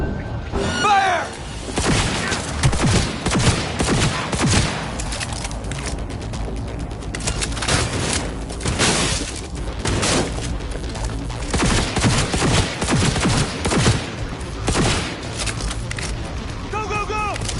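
Gunfire in the video game Cyberpunk 2077, dense bursts of rapid shots and booming impacts layered over a loud firefight, with shouting voices mixed in throughout.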